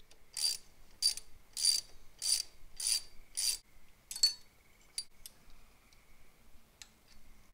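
A ratchet on an extension turns a 10 mm bolt near a car's alternator pulley, giving about seven crisp, evenly spaced clicking bursts, followed by a few fainter scattered ticks.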